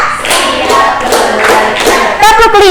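Group of children clapping in a counted tepuk clap game in a classroom, quick bursts of hand claps in rhythm, fairly loud and close, with a voice calling over them near the end.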